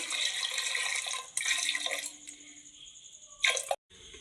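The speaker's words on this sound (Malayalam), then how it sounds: "ആവശ്യത്തിനുള്ള വെള്ളം ഒഴിച്ചു കൊടുക്കാം" Water runs steadily from a tap and splashes into a pot of lentils, loud and close, then cuts off abruptly near the end.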